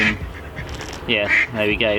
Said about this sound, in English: And got 3 ducks coming charging in under my rods.